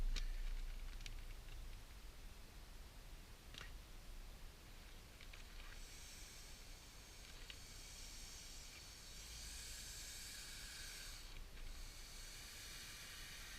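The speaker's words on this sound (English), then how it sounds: "use this little nozzle here to deflate the air because you don't want to have any air in the bag" Air hisses steadily out of the small deflation nozzle of a Scrubba wash bag, a soft continuous rush that brightens and swells toward the end, heard alone at close range with no talking.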